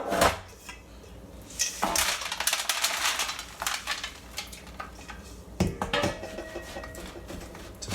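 Granola mixture is dropped into a baking pan with clattering metal knocks and scrapes from a spoon against the pan, some sharp and close, with softer shuffling in between.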